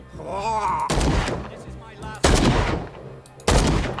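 Gunfire in the Call of Cthulhu video game: three loud, sharp gunshot blasts spaced about a second apart, each with a ringing tail, separated by quieter game sounds and a voice.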